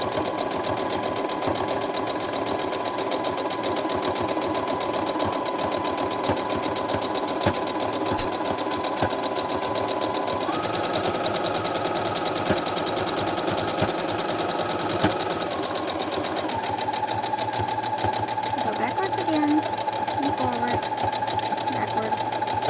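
A sewing machine runs steadily for a long stretch, stitching through a thick towel section with a continuous mechanical whir and needle rhythm, close and loud, its pitch shifting slightly partway through.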